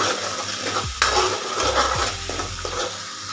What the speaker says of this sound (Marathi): त्याच्यामध्ये टोमॅटोची पण आता पेस्ट घालून घेऊ, पण त्याच्यामध्ये व्यवस्थित फ्राय करून घ्यायची